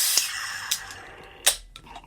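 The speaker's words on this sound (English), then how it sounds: "let's go and get this cracked and poured hard" A soda can cracks open with a few sharp, hissing bursts spaced across about two seconds, close by and fairly loud, with quiet gaps between them.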